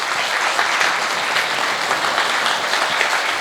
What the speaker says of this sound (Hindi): उस चीज के लिए तो ताली बनती है ना.